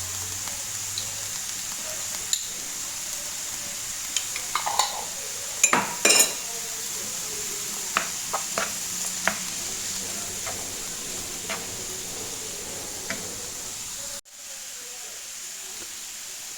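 Chicken with onion and spices frying in a pan, a steady close hiss with occasional stirring scrapes and utensil clinks over the sizzle.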